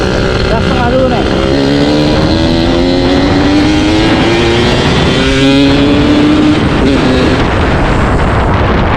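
A motorcycle fitted with a big carburetor is revved at half throttle close by. The engine rises and falls in pitch with a loud, continuous drone, and someone speaks over it.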